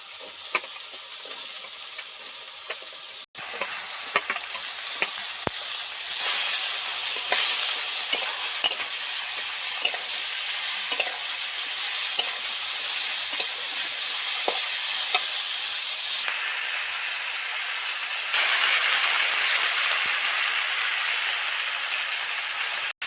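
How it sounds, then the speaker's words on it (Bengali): Snake gourd (chichinga) pieces fry in hot oil in a kadai, giving a continuous crackling sizzle broken by frequent scrapes and clicks of a stirring spoon. "কড়াতে এই চিচিংয়ের টুকরোগুলো দিয়ে দেবো"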